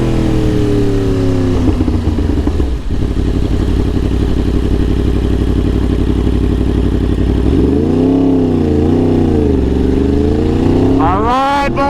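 Yamaha R1 sport bike fitted with a KO exhaust, idling loud and steady before several sharp revs that rise and fall, ending with a quick climb in pitch, close and dominant throughout in a Houston setting.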